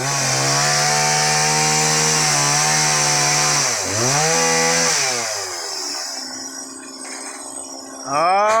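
A chainsaw cuts through wood with a loud, close, steady engine whine that bogs down and revs back up, then drops to a low idle before revving again at the end.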